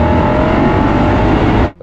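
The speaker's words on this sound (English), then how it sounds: "I bought a 2015 Lexus RCF. It had a 5-litre V8, it sounded amazing." A 2015 Lexus RC F with a 5-litre V8 revs hard and loud, holding a sustained roar for nearly two seconds before cutting off abruptly.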